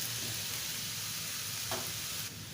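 Hot oil sizzling and crackling in a pan, heated for frying chicken, a steady faint hiss with a brief stir or splash near the end, no talk.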